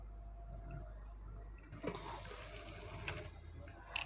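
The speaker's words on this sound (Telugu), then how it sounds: "ఇలా స్టిచ్ చేసుకుంటే మనకు ఈ డిజైన్ అనేది రెడీ అయిపోతుంది అనమాట." A sewing machine stitching a blouse back neck design, its steady mechanical whir rising partway through with small clicks and knocks, close and moderately loud with no talk.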